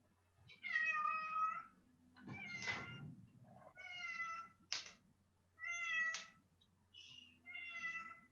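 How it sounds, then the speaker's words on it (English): A house cat meows repeatedly, with about six clear, drawn-out meows in an irregular rhythm. They are close and fairly loud over a quiet room with a low background hum, and no one speaks. "Sounds like someone else has a cat keeping them company."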